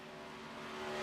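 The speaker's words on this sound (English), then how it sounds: "we enjoy the soothing sounds of our car running all by itself" NASCAR race car in the iRacing video game, its engine droning steadily on its own, a sustained tonal hum with no voices, slowly growing a little louder over a moment.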